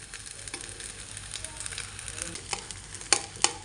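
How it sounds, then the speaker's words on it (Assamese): Rice stirred and fried in a pan, a steady close sizzle with scraping stir strokes and a couple of sharper utensil clinks near the end, no voices. "চাউলখিনি দিয়াৰ পিছত এতিয়া ধুনীয়াকৈ লৰাই থাকিব চাৰিওফালে। বহুত দেৰি চাউলখিনি ভাজিব লাগিব।"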